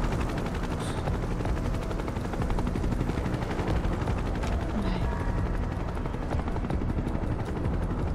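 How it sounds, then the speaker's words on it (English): Helicopter rotor noise from the video game Final Fantasy 7 Rebirth, a steady loud chopping drone that fills the scene with a brief spoken word over it. "So the helicopters can't see us?"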